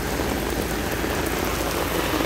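Heavy rain pours down steadily in Hong Kong, a dense, even hiss of drops hitting surfaces that fills the whole moment without a break and sounds close and loud.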